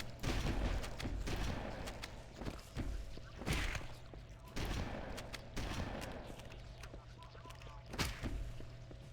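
Assault rifle fire in Halo: Combat Evolved, repeated short bursts of shots with thumping reports at irregular intervals over a low steady hum, moderately quiet.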